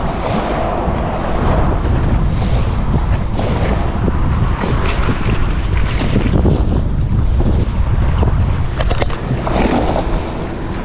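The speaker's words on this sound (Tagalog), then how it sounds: "lakas ng hangin" Strong wind roaring steadily across the microphone at sea, a constant heavy rush with water and boat noise underneath.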